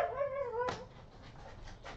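A dirty puppy shut outside whimpers to be let in, giving a thin, wavering high whine that ends in a sharp yelp, followed by fainter soft whines.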